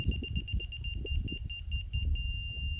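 A laser land-leveling receiver emits a high electronic tone in rapid steady beeps, faint above low rumbling handling and wind noise.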